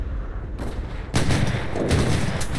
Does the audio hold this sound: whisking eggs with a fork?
no